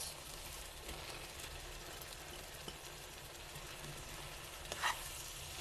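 Spinach frying in a pan for a cocoyam dish, a steady soft sizzle with a faint scrape of stirring near the end.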